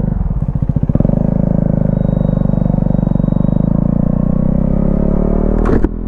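A KTM Duke 250 motorcycle rides along with a steady, loud engine drone close by, its low rumble holding even throughout with a brief rev and clatter near the end.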